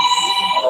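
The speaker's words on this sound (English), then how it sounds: "It's my phone." A mobile phone ringtone announcing an incoming call sounds close and fairly loud, a steady warbling electronic tone with no voices over it, heard during a live stream from a racing tour event.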